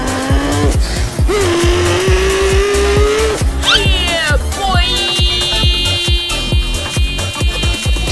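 Racing car in the F1 2021 game spinning out on a tricky Turkish GP track, loud engine tone dipping and rising with tire squeal and skid, then a steady high whine over rhythmic thumps.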